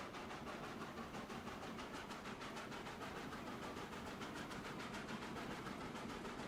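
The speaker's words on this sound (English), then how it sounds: "That is quite the train." A train runs steadily in the Transport Fever 2 video game on the Durango & Silverton map, a continuous rolling rumble with a faint rhythmic clatter of wheels, quiet and unbroken, with no voices.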